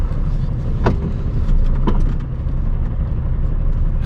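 A Class 2 lorry idles and creeps through a tight shunt among parked cars, its engine a steady, close rumble with a couple of sharp clunks or squeaks cutting through.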